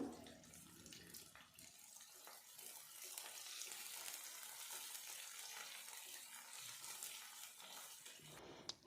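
Sliced onions sizzle in hot oil in a pan as they brown, a quiet, steady frying hiss that runs continuously with a few faint clatters near the start and end.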